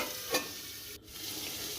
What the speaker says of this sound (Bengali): কড়াইতে নিয়ে নিলাম সর্ষের তেল তারপর আলুগুলো ভেজে নেব